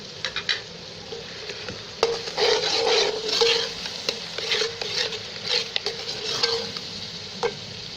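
Garlic and ginger paste is stirred into browned onions and oil in a cooking pot for haleem, with continuous sizzling frying and scraping spoon strokes, close and alone.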